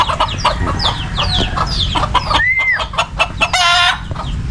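Chickens cluck repeatedly in short bursts, close by, with busy overlapping calls and a brief rising squawk partway through.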